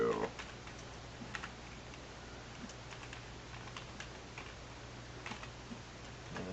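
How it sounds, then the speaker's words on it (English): Quick, light computer keyboard typing with scattered key clicks and a press of the enter key during a Windows Server 2016 Datacenter lab, soft and close over a low hum. "So then we'll hit enter"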